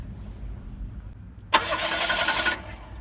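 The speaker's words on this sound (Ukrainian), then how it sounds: "Автобус не заводиться." An old bus engine being cranked, a starter whirring loudly for about a second in a steady burst after a quiet stretch of background rumble, without the engine catching.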